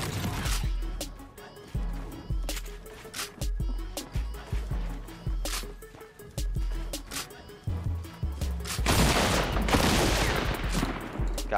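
Rapid gunfire in Fortnite from a new double-barrel shotgun, with loud repeated blasts in quick bursts among mechanical clicks, and a louder sustained burst of noise near the end.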